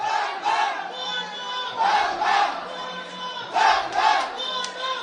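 Crowd of devotees packed into a temple on Mahashivratri, loud massed chanting and shouting rising and falling in repeated surges, close and continuous for several seconds.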